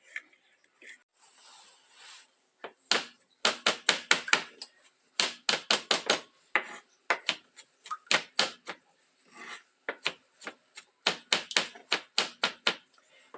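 A knife chops fresh rosemary finely on a cutting board for garlic toast, sounding as quick runs of close, crisp taps in bursts with short pauses, and faint talk at the start.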